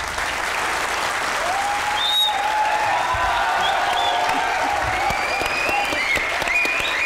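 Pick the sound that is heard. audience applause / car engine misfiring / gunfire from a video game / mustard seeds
audience applause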